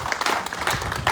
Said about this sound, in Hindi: आंचल तालियां आंचल की